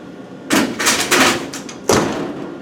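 Aluminium casting being set down inside a vapor honing machine cabinet: a couple of dull hollow thumps and clunks close by, with a brief shuffling knock between them in a quiet workshop.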